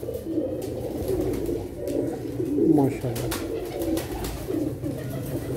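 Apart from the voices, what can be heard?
pigeons cooing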